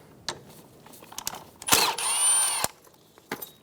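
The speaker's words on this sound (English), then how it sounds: "Using a 10mm socket, remove the bolt for the brake line bracket." A power tool drives a 10mm socket to remove the brake line bracket bolt on a 2014-2018 Chevrolet Silverado 1500 during control arm replacement, giving one loud, close whir of about a second between scattered clicks and handling noises.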